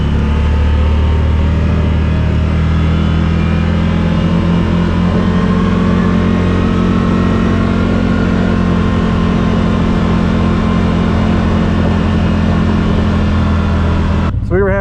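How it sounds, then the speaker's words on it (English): A 2023 CFMoto ZForce 800 Trail side-by-side engine revving steadily in low range, a loud continuous drone with strong low harmonics running throughout, nearby, with no talk. "You can feel it revving out sooner."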